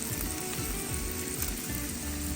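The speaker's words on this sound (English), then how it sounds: "Sizzle." Steady, close sizzling of vegetables frying in olive oil on a hot Blackstone griddle, crackling continuously without any voices.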